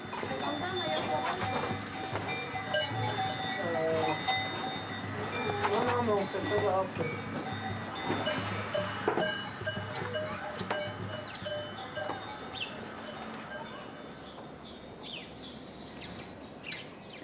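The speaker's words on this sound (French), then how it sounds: "Depuis qu'elle est née, la petite Louane s'endort au son des cloches." Clanking cow bells ring continuously outdoors in Vissoie, Switzerland, with people talking in the background and occasional animal sounds.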